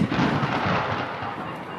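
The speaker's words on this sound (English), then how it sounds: "that sounded like thunder" Thunder rumbles outdoors in one broad, low roll that starts with a strong burst and slowly fades, moderately loud and heard alone.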